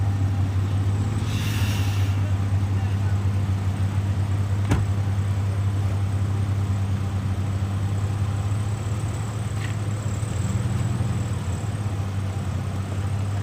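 A truck and cars idling in blocked street traffic in Tucson, Arizona, a constant low engine drone with a sharp knock partway through and a brief hiss, no voices.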